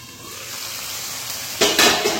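Chicken gizzard and liver frying in oil in a pan give a steady close sizzle, with a couple of louder bursts of stirring and scraping near the end.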